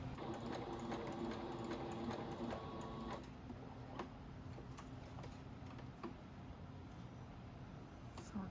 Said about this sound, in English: go back just a little bit so you lock in your stitch. And sew all the way around.